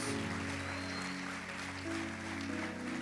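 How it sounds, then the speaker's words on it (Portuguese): A church congregation applauds, a steady dense wash of clapping that holds evenly for a few seconds, with a faint tonal hum beneath and no voices above it. "Dê para ele um aplauso"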